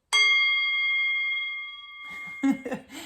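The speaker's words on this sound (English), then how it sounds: "I might as well ring my bell, won't I?" A single strike of a hand bell gives a bright, clear ring that slowly fades over about two seconds, and a voice starts talking near the end.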